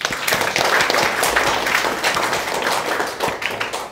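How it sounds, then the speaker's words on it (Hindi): Students in a government school class of eighth graders clap together in a dense, continuous round of applause that stays fairly loud and close throughout. "ताली बजा दीजिए"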